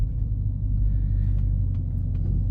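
A Dodge Hellcat Widebody cruising along, its engine giving a steady, deep low rumble that fills the cabin, with faint rattles and bumps from the car interior riding on top.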